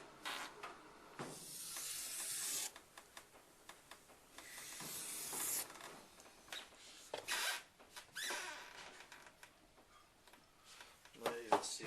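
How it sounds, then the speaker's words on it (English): A knife is back-honed on a 1K Arashiyama whetstone, giving bursts of gritty hissing strokes in short repeated passes, fairly close and moderately quiet. "Give it a little back hone a few times like this."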